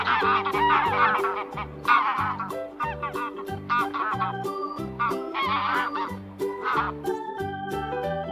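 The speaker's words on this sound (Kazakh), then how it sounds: "Қаз." A domestic goose honks loudly and close by in a rapid series of repeated nasal calls, heard alone without any talking.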